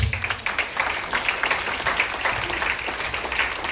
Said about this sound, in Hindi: तो एक बार कंपनी मैनेजमेंट के लिए जोरदार ताली।